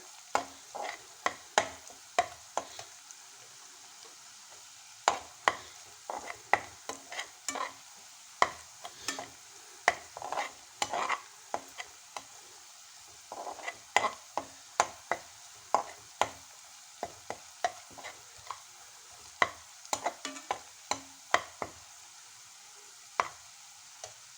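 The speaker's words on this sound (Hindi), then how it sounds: "ये जो हमने लहसुन और प्याज का तड़का फ्राई किया था ये फ्राई हो गया है" Garlic and onion tempering for mustard greens saag sizzles softly in a pan while a spoon stirs and scrapes repeatedly, the clacks irregular and close.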